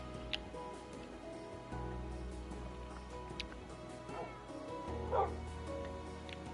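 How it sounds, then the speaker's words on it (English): Dogs barking and yipping in a home, fairly faint and distant, a few short barks scattered under steady background noise and game sounds. "Oh, I hear your dogs."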